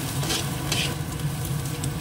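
Steady frying sizzle with a dense crackling hiss, continuous and fairly close, with occasional brighter bursts of spatter as chopped onion fries in oil with eggs; no one talks.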